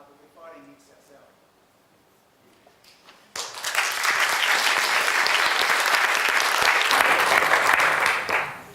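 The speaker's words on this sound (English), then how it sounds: "A final round of applause for Victor." Audience applause breaks out at a city growth planning event, a dense, steady clapping from a large crowd that starts abruptly and holds loud and even for several seconds before tapering off.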